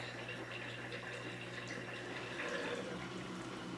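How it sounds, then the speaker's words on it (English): A household dishwasher runs in the background, a steady, faint wash of water and pump noise with a low hum, continuous and even with no talking. "That's my dishwasher going in the background there."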